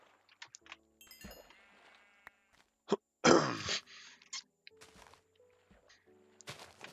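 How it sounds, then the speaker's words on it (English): Several short sheep bleats from the video game Minecraft, scattered across a farm scene, with one louder, longer bleat near the middle among quieter blips and thunks. "So, I still have sheep to shear."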